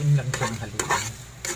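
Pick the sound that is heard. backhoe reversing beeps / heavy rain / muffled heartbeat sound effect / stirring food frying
stirring food frying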